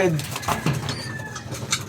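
A racing pigeon coos softly in a loft, low throaty calls repeating close by while someone talks over them.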